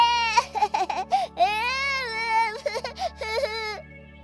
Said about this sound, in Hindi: तभी छोटे बेटे के रोने की आवाज आती है।